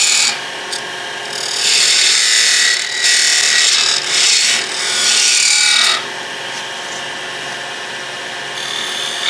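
A woodturning gouge riding the bevel as it cuts a spinning wooden lidded box on a lathe, giving loud, close, hissing scraping passes that rise and fall in several long strokes.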